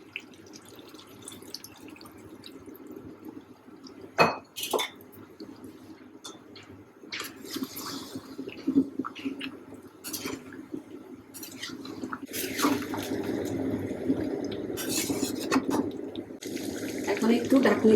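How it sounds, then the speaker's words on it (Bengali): Liquid gravy is poured into a pot of browned chicken curry, a steady watery pouring and splashing that builds and grows louder toward the end, with a few sharp clinks along the way. "আমি এখন ঝোল দিয়ে দিব।"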